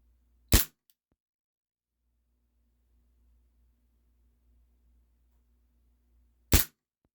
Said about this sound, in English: with the CO2, the blowback is just, you got to hold that down with your thumb